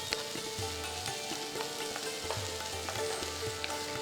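Onions sautéing in a pan for a pudina tomato chutney, a soft continuous sizzle with occasional scraping stirs and light crackles, fairly quiet and without any talking.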